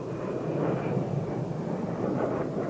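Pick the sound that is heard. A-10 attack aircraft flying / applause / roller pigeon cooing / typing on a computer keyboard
A-10 attack aircraft flying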